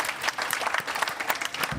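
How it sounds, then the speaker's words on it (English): An audience claps together, steady, dense applause from a room full of people, sustained the whole time. "Perhaps a round of applause for our panelists"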